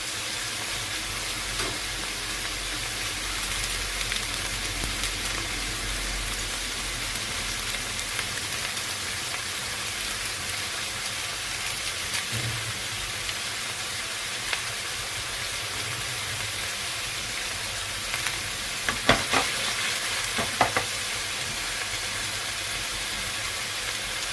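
Vegetables for a Visayan-style boiled dish sizzle and simmer in a pan, a constant hissing wash with occasional faint scrapes and clinks of stirring, brief louder knocks near the end.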